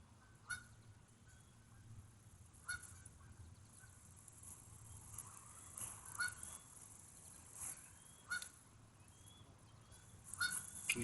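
Duck of an unusual colour, giving repeated loud honking calls at irregular intervals over a quiet outdoor background, no voices.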